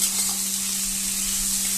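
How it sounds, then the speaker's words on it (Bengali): Banana flower and prawns frying in a pan, a dense, steady hiss of close sizzling with a constant low hum beneath and no voices. "এটা আগে একটু ভালোভাবে ভাজা হবে"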